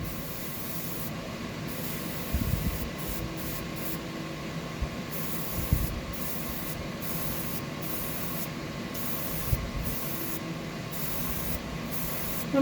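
Spray finish hissing steadily onto deep diver fishing lures, a continuous close broadband spray with no talk over it.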